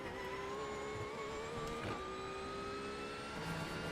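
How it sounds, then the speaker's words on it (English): A Porsche race car engine at the Nürburgring 24 Hours holds a steady, high-pitched drone that climbs slowly in pitch, with a brief louder surge midway and no talking. "I do think the Porsche sounds really nice though"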